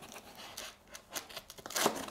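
Scissors snip through bicycle packaging in a handful of short, crisp cuts with light plastic crinkling between them, close but quiet, with no talking.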